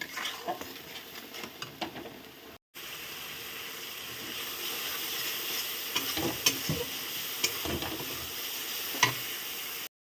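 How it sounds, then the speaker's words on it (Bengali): Spice paste stirred and fried in oil in a pan for a Malabar spinach stem dish, giving a steady close sizzle with scattered scraping clicks of the spoon, briefly cut off near the start. "এই মশলাটা এখন আমি নেড়ে চেড়ে ভালো করে এটাকে আমি ভেজে নেব"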